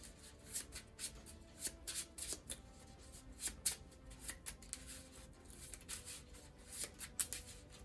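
A deck of cards for the Marvel Legendary board game being shuffled: a quiet, close series of irregular papery riffles and light taps, alone with no voices.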